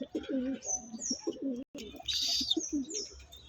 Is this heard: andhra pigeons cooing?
yes